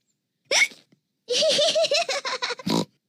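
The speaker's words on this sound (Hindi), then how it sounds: "जॉर्ज की हिचकियों से खेल बिगड़ रहा है" Cartoon pig character hiccuping, a short squeaky hic followed by a jittery run of rapid voiced hiccup-like bursts and a final sharp hiccup, close and clear in quiet.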